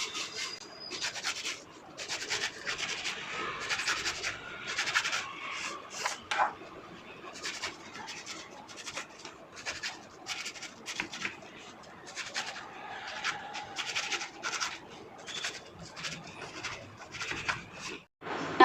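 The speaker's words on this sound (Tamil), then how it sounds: "நம்ம எடுத்த எல்லா பரோட்டாவையும் இந்த மாதிரி கத்தி வச்சு ஸ்கொயராக கட் பண்ணிக்கலாம்." A knife cuts through parotta flatbread into squares for chilli parotta, giving repeated soft scraping and tapping strokes on a board, faint and close with a steady uneven rhythm.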